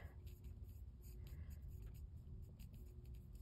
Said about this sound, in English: I'm going to write you down quick